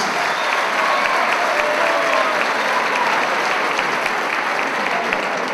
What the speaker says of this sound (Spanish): Un aplauso para cada uno de los integrantes.